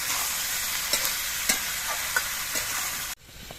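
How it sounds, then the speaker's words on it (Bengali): Vegetables with slit green chillies and salt are fried and stirred in a pan, giving a steady bright sizzle punctuated by a few sharp spatula scrapes before the frying sound drops off abruptly near the end, with no voices. "নুন দিয়ে নেড়ে চেড়ে মিশিয়ে নিয়ে সবজিগুলোকে ভেজে নিতে হবে"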